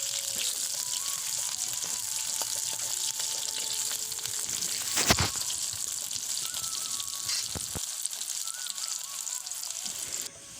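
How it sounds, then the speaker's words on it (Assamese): Onions and a bay leaf frying in oil in a pan, a steady hissing sizzle close up with brief scrapes of stirring, carrying on throughout before cutting off at the end. "পিঁয়াজটো লৰাই অকণমান ৰঙচুৱা হ'বলৈ দিছোঁ।"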